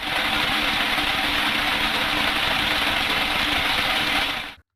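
A steady, loud tractor engine drones without a break during a walnut harvest, its low rumble and broad noise constant until it cuts off abruptly near the end.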